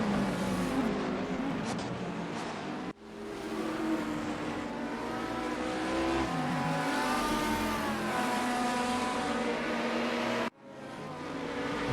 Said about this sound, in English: Looks like Mitchell's having a little trouble with all that horsepower on that Monza. Little wheel spin here and there